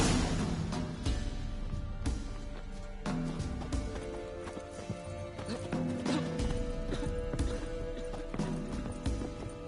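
Roach the horse clip-clops steadily across ground in The Witcher 3, hooves striking in a regular rhythm with an occasional snort or whinny, set against game music and ambience.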